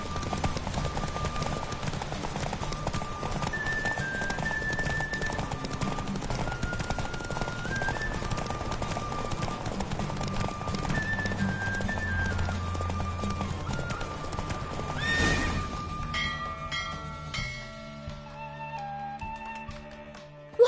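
Hooves clop rapidly as a horse gallops in The Witcher 3 during a race, a steady driving rhythm under game music, easing off near the end.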